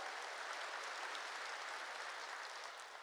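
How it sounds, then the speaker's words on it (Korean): A church congregation claps steadily to glorify God during a New Year's Eve service, a continuous dense patter of many hands that stays even from start to finish with no voices over it. "빨리 박수로 하나님께 영광을 돌려요"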